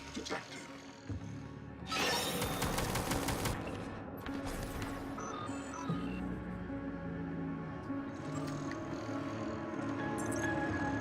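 Automated turret in Prey firing in rapid bursts, with loud repeated gunfire clusters around two, four and ten seconds over a constant game soundscape.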